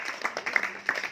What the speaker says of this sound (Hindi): तालियां तालियां तालियां तालियां तालियां